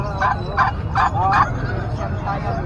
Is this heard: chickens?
yes